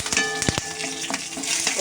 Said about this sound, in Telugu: పోపు మొత్తం ఫ్రై అయిపోయింది కదా, ఇప్పుడు కరివేపాకు అనేది వేసేద్దాం.